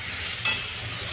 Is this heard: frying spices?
yes